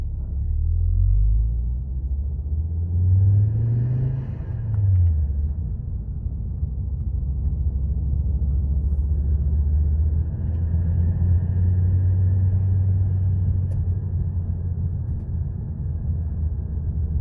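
A Ford Focus Mk2 ST with an upgraded turbo drives around the block, its engine giving a steady, close low rumble from inside the car, with gentle rises and falls in pitch as it pulls away and cruises.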